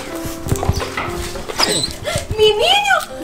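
A pet dog whimpers and barks in excited high yelps at a family reunion in Cuba, close by and mixed with overlapping voices of people talking.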